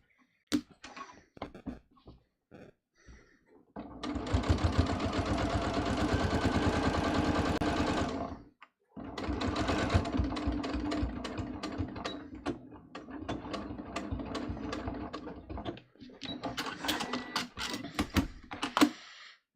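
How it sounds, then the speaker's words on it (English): A sewing machine stitches the last side seam of a garment, running in long, steady mechanical whirring bursts with a brief pause, then shorter clattering runs and stops. "we're just going to sew right up this last side"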